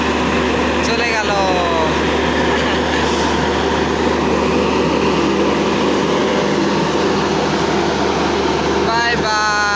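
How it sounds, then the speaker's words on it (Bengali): The 16529 Karaikal Express sits at SMVT Bengaluru and then departs, with a loud, continuous rail and engine drone and a high whine rising and falling near the start and end. "গ্রিন সিগন্যাল দেখা দিল, মানে ট্রেনটা এখন ছাড়বে"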